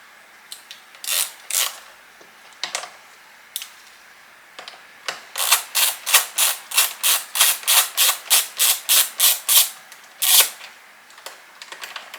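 A bolt is worked loose on a Porsche 928 with sharp mechanical clicks: a few scattered ones at first, then a quick, steady run of about a dozen close ratcheting clicks, with no talk.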